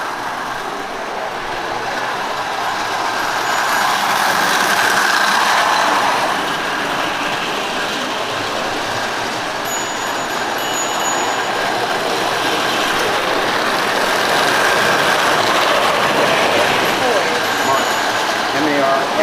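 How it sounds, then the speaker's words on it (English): A model train rumbles and clatters steadily along its track, with a faint whine above the running noise and quiet talk in the background. "All right, so that's the trains."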